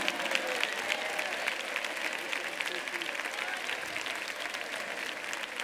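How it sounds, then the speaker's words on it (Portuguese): A church congregation applauds as a pastor is welcomed to the pulpit, a steady, even wash of many hands clapping heard at a moderate distance for several seconds. "e as palmas são para Jesus."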